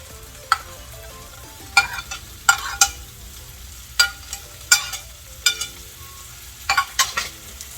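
Tomatoes and green chillies cook in a pan for a prawn curry, with sharp spoon-against-pan clatters in irregular bursts over a faint, low sizzle.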